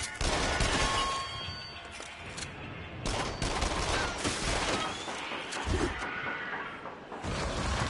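Uzi gunfire in a video game: rapid bursts of automatic shots rattling over a dense, loud background of game sound, with short gaps between volleys.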